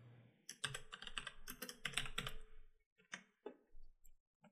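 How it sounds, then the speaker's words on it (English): Quick, fairly close typing on a computer keyboard, a burst of rapid key clicks followed by a few slower, scattered taps, fairly quiet overall. "you can go ahead and type in a new name"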